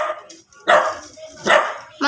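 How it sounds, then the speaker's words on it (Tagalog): A dog barks three times in quick succession, loud and close, with short gaps between the sharp barks. "May aso doon"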